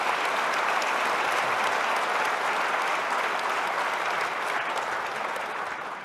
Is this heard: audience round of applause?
yes